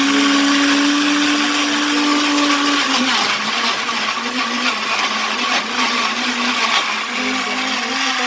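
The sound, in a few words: electric blender blending ingredients for chicken gravy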